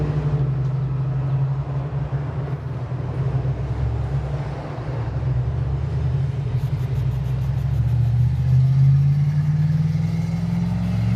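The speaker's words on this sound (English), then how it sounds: "Sorry about the loud noise with the vehicles too." Loud vehicles pass near a cemetery, giving a heavy, continuous low rumble of engines and tyres that swells and builds toward the end, with no talking.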